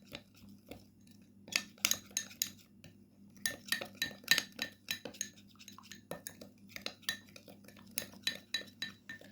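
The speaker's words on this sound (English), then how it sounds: "Now we need to mix well all the ingredients until they combine and get very well mixed together." Spoon stirring a coffee, salt and olive oil mixture in a bowl, with a steady run of close, sharp scraping clinks against the bowl in irregular bursts over a low background hum; no talking.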